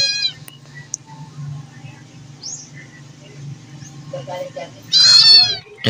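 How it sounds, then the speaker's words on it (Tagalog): A cat's meow rings out loud and near toward the end, after a few faint squeaky calls, over a low steady hum and murmuring voices in a Filipino spider-fighting setting. "Meow."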